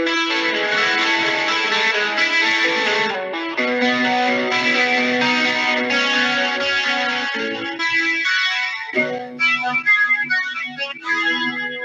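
A clean electric guitar plays sustained chords and arpeggiated notes through a shimmering Ibanez chorus effect, loud and up close.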